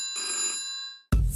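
An old-style telephone bell rings once in a bright metallic burst, fades out, then a sharp low thump cuts in as the ring ends.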